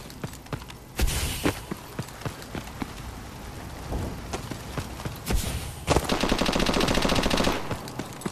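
Gunfire crackles through a search-and-destroy video game match, with scattered sharp shots, a heavy burst near the start, another around five seconds, and a sustained rattling volley near the end that ends in a sniper kill.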